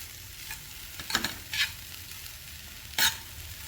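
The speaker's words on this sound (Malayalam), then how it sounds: "ഒരു നോൺ സ്റ്റിക്കിൻ്റെ അതേ ഇഫക്റ്റിൽ നമുക്കിപ്പോൾ ഈ പാവയ്ക്കെല്ലാം നന്നായിട്ട് വഴറ്റിയെടുക്കാം" Small bitter gourd sautéed in a steel pan, a soft continuous sizzle broken by three or four sharp scraping strokes of a spatula, close and fairly quiet, with no talking.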